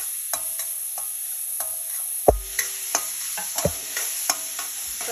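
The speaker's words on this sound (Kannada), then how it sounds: "ಇದನ್ನು ಚೆನ್ನಾಗಿ ಹುರ್ಕೊಳ್ಳೋಣ." Grated carrots and cabbage fry in a pan with a steady, soft sizzle while a spoon stirs them, scraping and knocking against the pan in irregular taps close by.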